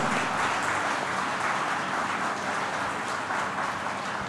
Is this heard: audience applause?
yes